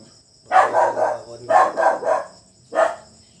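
A dog barks at night in three bursts, two quick barks each in the first two and a single bark at the end, fairly close and loud against a quiet background.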